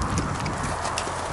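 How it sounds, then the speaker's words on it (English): A horse, half quarter horse and half breeding stock paint, walks with steady clip-clop hoofbeats close by at a moderate level, accompanied by a continuous broadband outdoor background. "He's half quarter horse, half breeding stock paint."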